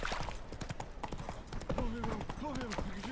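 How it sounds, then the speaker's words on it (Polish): Horse hooves clip-clop in The Witcher 3 video game, a steady rhythmic trot at moderate distance, joined later by rising tonal in-game music or whinny-like sounds. "Nawracanie koniem."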